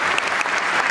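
Concert audience applause in Yerevan, a loud, dense burst of clapping filling the whole moment.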